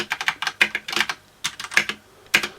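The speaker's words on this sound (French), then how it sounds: "on a quelques bruits de ressort sur les touches doubles" Gear Rush G1 mechanical keyboard keys clack in a quick irregular burst of presses, crisp and close, with slight spring noise on the wide keys, no voices.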